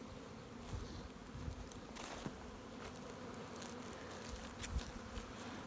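Honey bees buzz around a hive in a beeyard, a faint, continuous hum with individual bees flying close by in brief, louder passes.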